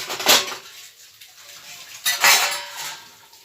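Cooked chholar dal poured from a metal pot into an oiled metal plate, giving two close bursts of clanking and scraping metal with a soft wet slide between them.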